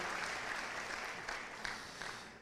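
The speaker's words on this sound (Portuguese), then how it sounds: "dá uma salva de palmas em nome de Jesus" A church congregation applauds during a Portuguese-language worship service, dense sustained clapping that fills the space evenly and tapers slightly toward the end.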